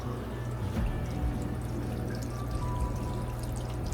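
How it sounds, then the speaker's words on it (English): Water pours steadily down an aquarium overflow drain tube in a fish room, a continuous close gurgling flow with faint drips, no voices. "once the water gets high enough, we should start to see it come down that drain tube"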